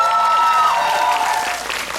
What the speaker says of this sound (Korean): 축하의 박수 한번 드릴까요?